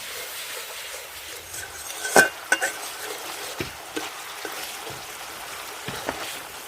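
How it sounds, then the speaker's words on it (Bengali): Ginger spice paste sautéed in a pan for a vegetarian doi potol curry: a soft, low sizzle broken by several distinct metallic scrapes and clinks of a spatula, loudest near the middle. "আদার কাঁচা গন্ধটা না যাওয়া পর্যন্ত মশলাটা ভালোভাবে কষিয়ে নেব।"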